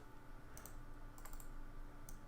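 Computer mouse clicking while crafting in the Minecraft modpack Sky Factory 3, a few quick, faint clicks in small bursts, close to the microphone, over a low steady hiss.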